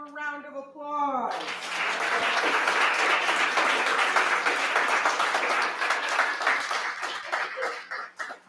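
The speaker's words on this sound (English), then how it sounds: "One more round of applause." A brief spoken line gives way to sustained audience applause after a school reader's theater play, a dense, even clatter of many hands that holds for several seconds at full strength.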